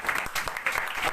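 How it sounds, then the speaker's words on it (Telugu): A church congregation at a Telugu sermon breaks into brief applause, a short burst of many hands clapping at moderate volume. "చప్పట్లు కొడదామండి"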